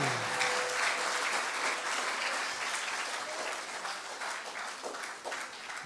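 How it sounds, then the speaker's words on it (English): Congregation at a church revival service clapping their hands, a steady sustained wash of applause filling the whole stretch with no talk. "Clap your hands unto the Lord"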